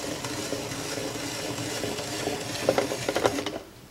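Cucumber being sliced on a Küchenprofi Compact vegetable cutter, a steady scraping, whirring rasp through most of the clip, then a quick run of sharper cutting strokes near the end before it goes quiet.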